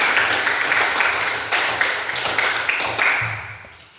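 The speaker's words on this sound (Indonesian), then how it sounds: "Jadi tepuk tangan dulu untuk hasil lompat." Schoolchildren clap together after a jumping exercise in a primary-school physical education lesson, a dense, steady patter of many hands close by, fading slightly toward the end.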